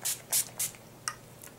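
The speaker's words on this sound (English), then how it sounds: "Then I'm going to take the Urban Decay D-Slick and spray this all over my face." Three quick hissing spritzes of Urban Decay De-Slick setting spray onto a face, then two lighter, shorter puffs, close and clear with no talking.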